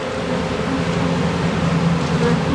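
Honeybees swarming over an open beehive with frames of brood in December, a dense, steady, close buzzing drone with no breaks.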